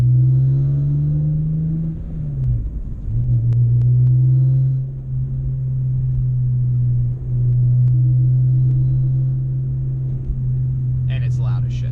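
A BMW E46 M3 with 195,000 miles drones with a loud, steady low engine rumble while driving, the pitch dipping briefly at a gear change; a voice talks over it throughout.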